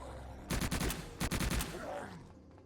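Submachine gun firing in the Subterrain video game, two rapid bursts of sharp automatic shots, loud and close, separated by a short pause and followed by fading quiet.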